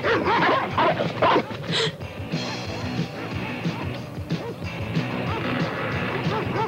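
Dogs bark and yelp amid a chaotic, noisy scene with crashing sounds and shouting voices, in the animated series Ulysses 31.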